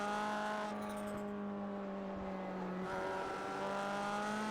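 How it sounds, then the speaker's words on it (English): A turbocharged race car at the Catalunya circuit rolls off the throttle, its steady engine note fading and dropping in pitch with a faint turbo whistle, heard close and alone. "Car sounds great as it rolls off the throttle, doesn't it?"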